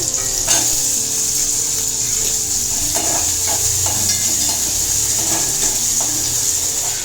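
Onion and potato frying in a pan, a loud steady hiss of sizzling oil with occasional soft stirring knocks, close and continuous with no speech.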